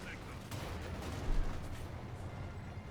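Machine gun fire rattles in the Company of Heroes 2 strategy game, a muffled, fairly distant burst of battle noise with a louder swell in the middle, mixed under a steady din.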